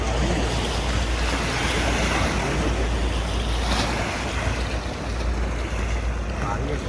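Waves slapping around a boat out on open water, with constant broadband wind rush buffeting the microphone, loud and steady throughout.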